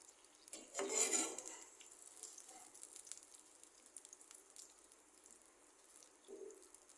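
Spiced pangas fish curry being stir-cooked in a pan, a scraping spatula stroke and clink of utensil against metal, then soft faint sizzling and light scrapes, quiet and close.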